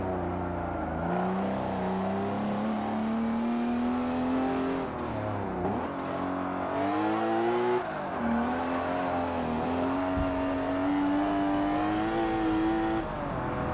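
Car engine sounds from a racing video game: a continuous loud engine note that climbs through the revs, drops at gear changes and climbs again, with no talking.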